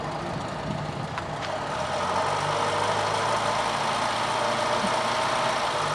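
A car engine idles steadily after a cold start on a chilly morning of about 3 to 5 degrees, a continuous mid-pitched rumble running close and even, with no voices.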